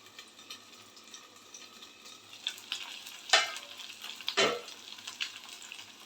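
Fish frying in oil in a covered pan, a low steady sizzle with a couple of sharper bursts of spitting near the middle, heard alone and fairly quiet.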